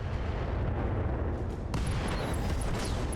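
A dense, roaring rumble from the Battletech video game, during a mech battle, erupts into a sudden, brighter explosive burst partway through and stays loud and continuous to the end.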